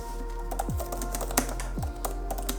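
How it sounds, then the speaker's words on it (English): Typing on an Apple Magic Keyboard, a quick irregular patter of close, crisp key clicks with a few harder taps over a low steady hum, and nobody talking. "The keyboard illuminates in the dark, and every key has a really nice click to it."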